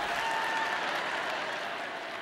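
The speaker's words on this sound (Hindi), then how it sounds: "आप चाहें तो चीख चिल्लाकर तालियां बजा सकते हैं" An audience claps at a spoken talk in a dense, steady burst that lasts only a couple of seconds, with no voices over it.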